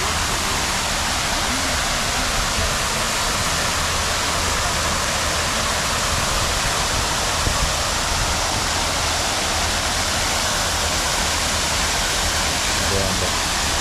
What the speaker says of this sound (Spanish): ciclones de agua que salen de por acá